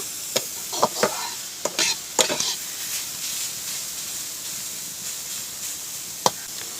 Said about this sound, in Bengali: একটুখানি কিন্তু নেড়ে চেড়ে কিন্তু হালকা মতন ভেজে নেব।